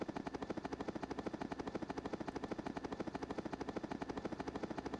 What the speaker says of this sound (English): Cool, we got a helicopter noise.